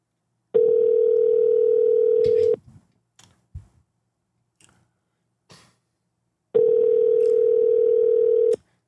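A steady telephone tone sounds twice for about two seconds each while a call is placed, with faint clicks and taps in the quiet gap between.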